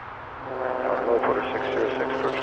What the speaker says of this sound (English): Coming in is an A319 from Regina